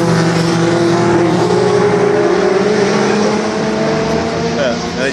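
Race cars lap the Japfest track with an RX-7 holding up a bunched pack, their engines droning loud and continuous throughout while a voice talks over them.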